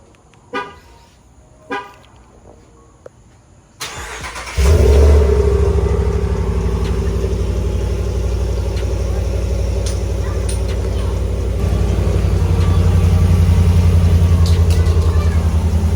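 A few faint beeps and clicks give way to a truck engine cold-starting on its stock exhaust, cranking and catching, settling into a loud, steady idle that rises slightly later on.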